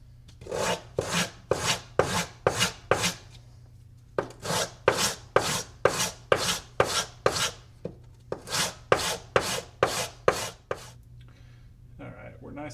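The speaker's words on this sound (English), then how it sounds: "Got a piece of 80 grit sandpaper here on a nice flat surface, and we're just gonna do some swipes, turn," A part for a Knight's Armament Stubby VFG conversion rasps back and forth across 80 grit sandpaper on a flat surface, in three runs of about seven rhythmic, close, loud swipes separated by short pauses.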